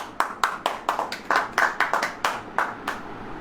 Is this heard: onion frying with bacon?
no